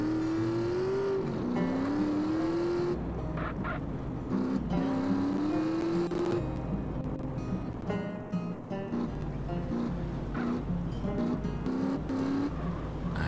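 A car driving at full throttle in the video game GTA San Andreas, its engine droning steadily and rising in pitch through repeated gear changes, loud and continuous throughout with occasional tire noise.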